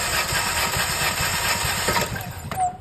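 Starter cranking on an Alfa Romeo Giulietta 1.4 turbo during a compression test, a steady close rhythmic churning that runs throughout and ends abruptly near the end.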